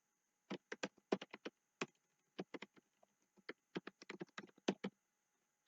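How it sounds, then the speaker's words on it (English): Light clicks on a computer keyboard come in quick irregular bursts, close and fairly quiet, with short pauses between runs of keystrokes over a soft background hum. "you can type in your priorities like that"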